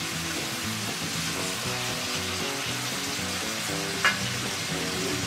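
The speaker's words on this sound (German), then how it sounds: "Schön anbraten, zwischendurch umrühren, anbraten." Turkey curry and bacon fry in a pot with a steady, close sizzle and hiss throughout, beneath continuous background music.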